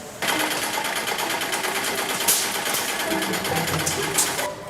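An industrial sewing machine stitches a shoe upper in a footwear workshop, its needle running in a fast, steady, continuous whir for the whole stretch with small bursts of clatter.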